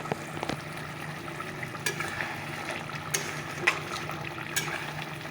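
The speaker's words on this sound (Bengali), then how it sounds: "তো চলো এটাকে একটু কষিয়ে নিয়ে তারপরে ঝুল দিয়ে দেবো" Egg curry simmering and frying in a pan on a home kitchen stove, a steady low sizzle with occasional stirring clinks and scrapes, no voices.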